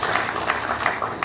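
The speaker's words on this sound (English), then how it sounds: "I think he deserves a better round of applause this afternoon." A crowd applauds at a Niger Delta small and medium enterprise summit, a short stretch of loud, even clapping with a faint voice mixed in.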